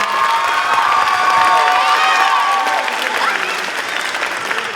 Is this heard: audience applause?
yes